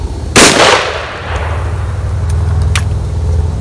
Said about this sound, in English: That gun shot great.